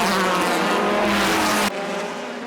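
Race cars at the JGTC 2000 final race pass by as a loud, steady engine roar with a droning, buzzing quality, cutting off abruptly into a quieter, more distant engine drone; no talking.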